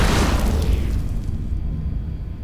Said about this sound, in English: Warning! Incoming enemy torpedo!